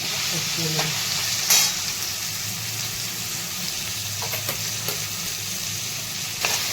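Tomatoes and chilli sauté in hot oil for a capsicum-potato vegetable dish, with a continuous close sizzle and occasional stirring scrapes and clinks.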